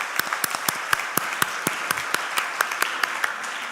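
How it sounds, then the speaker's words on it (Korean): An audience at a Presbyterian church general assembly gives a round of thankful applause for university officials, steady overlapping claps with distinct sharp hits running throughout at moderate loudness. "관계자들 계시면 한번 우리 감사의 박수 부탁드립니다"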